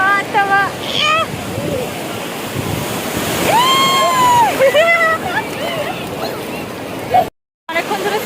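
Sea waves wash and surge at Digha beach while a group bathes, a steady broad roar of surf with splashing close by and excited voices and calls from the bathers over it.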